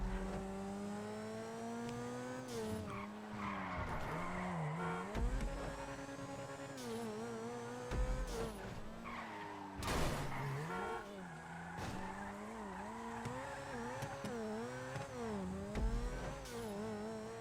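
A Grotti Turismo R sports car in the GTA video game laps a test track, its engine revving hard through repeated gear-change dips while tires squeal and skid in bursts, steady and close throughout.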